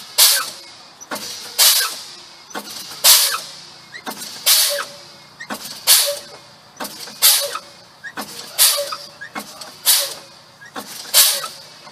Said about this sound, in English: So, I want to begin pumping the brakes.